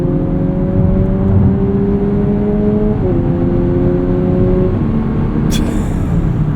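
Synthetic engine noise piped into the cabin of a 2025 Lexus UX 300h F Sport Handling hybrid plays as it accelerates, a steady tonal hum that climbs in pitch and then steps down, heard from inside the car.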